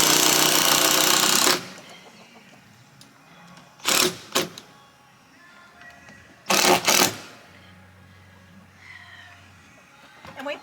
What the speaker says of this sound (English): So I'm just going to put screws in about every foot.